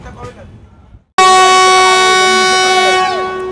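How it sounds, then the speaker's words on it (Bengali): An Indian train's horn blasts at Mallarpur station, a loud sustained multi-tone note lasting over two seconds that cuts in abruptly after a brief moment of low background noise. "ট্রেনের হর্ন দিয়ে দিয়েছে"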